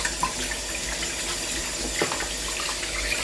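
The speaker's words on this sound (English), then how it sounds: "So I'm just gonna run a little bit of hot water." Hot water runs steadily from a household tap into a sink, a continuous close hiss and splash with no talk, lasting a few seconds.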